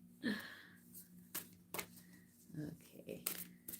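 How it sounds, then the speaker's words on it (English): A deck of zodiac reading cards is shuffled up close in short, crisp riffling bursts with papery flicks, interleaved with quiet talk. "Shuffle a little bit."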